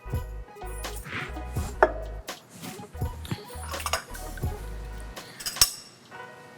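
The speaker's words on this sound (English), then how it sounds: "Now we're going to give this a good shake, 5 to 8 seconds." Ice rattles and clinks inside a cocktail shaker filled with Gin Collins ingredients, shaken in several short, uneven bursts with thuds and sloshing, close and fairly loud, no talking.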